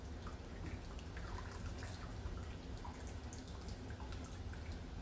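Hot water runs steadily from a tap with a continuous splashing hiss and scattered drips, close and fairly quiet, with no talking.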